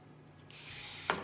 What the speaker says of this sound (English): So, hairspray and smooth.